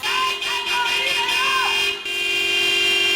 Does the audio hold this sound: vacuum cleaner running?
no